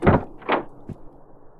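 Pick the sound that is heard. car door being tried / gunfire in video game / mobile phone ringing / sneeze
car door being tried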